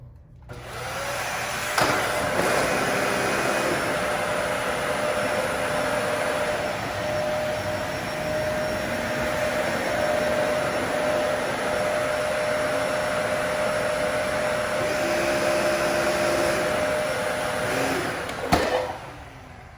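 A Dyson Ball Animal 2 upright vacuum with the brush roll off runs on a hard floor, giving a steady, loud whine and airy roar with a couple of brief knocks.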